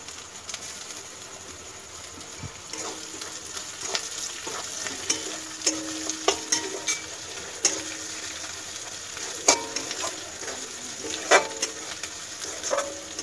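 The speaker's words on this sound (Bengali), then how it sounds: "কুচো করে কাটা লঙ্কা দিয়ে দিলাম।" Chopped green chilies frying in a pan for Bengali egg tarka, a steady close sizzle with scattered clinks and scrapes of stirring throughout, no voices.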